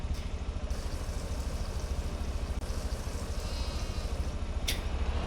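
Sheep and goats bleat in the farming game Farm Restorer, a few brief calls rising over a steady low engine-like idle hum that fills the background, with no talking.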